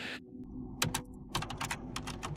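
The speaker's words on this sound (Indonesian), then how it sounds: "ketikkan perintah wget version" Keys tapped on a computer keyboard while entering a wget version command in a Linux terminal, a quick run of crisp, close clicks in short bursts with a brief pause near the start, no voices.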